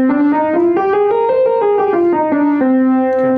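Connected notes step up a minor scale and back down again in a smooth, even line, loud and close, with no talking.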